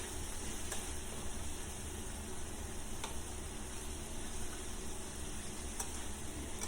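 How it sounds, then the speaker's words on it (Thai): Pork and garlic stir-fry in a pan for Thai chili pork, giving a steady, fairly quiet sizzle with faint scraping taps from stirring, heard alone throughout. "เอาเนื้อหมูใส่ลงไป แล้วก็ผัด คลุกเข้าให้เข้ากันก็กระเทียมค่ะ ผัดไปจนกว่าหมูจะสุก"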